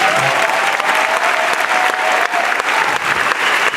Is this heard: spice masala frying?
no